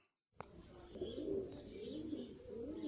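Soft, low cooing of American pigeons rolls on steadily after a brief click, fairly close, with no one speaking.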